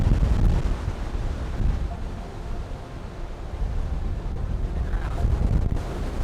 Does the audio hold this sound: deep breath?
no